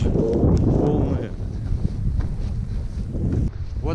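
Gusty wind roars and buffets the microphone, a steady low rumble, with people talking over it near the start, at a camp on Kilimanjaro.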